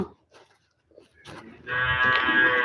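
A buffalo moos loudly and steadily at close range for over a second, after some faint scattered sounds and brief quiet before it.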